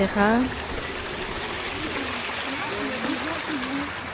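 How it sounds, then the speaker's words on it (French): Small streams trickle and gurgle through a Japanese garden in Belgium, a steady soft water flow throughout, with a brief voice at the very start. "Et il y a des petites rivières, ruisseaux, etc."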